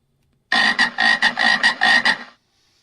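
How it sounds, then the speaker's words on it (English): A frog croaks in a loud, close series of about seven rasping pulses in quick rhythm, lasting around two seconds with nothing else audible. "I have a frog."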